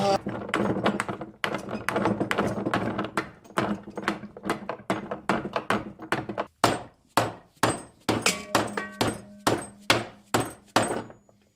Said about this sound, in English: Plastic hammer is just not quite gonna do it.